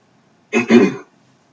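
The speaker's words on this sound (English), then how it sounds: "Trying to clear my throat." A person clears their throat once, a short rough rasp up close in an otherwise quiet room.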